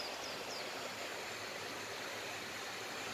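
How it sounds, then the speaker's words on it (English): Steady broadband rushing of the River Mulcair flowing beside a large tree, a continuous close wash of water with no breaks and no voices. "I'm beside the river. That's my doggy. And that's the River Mulcair."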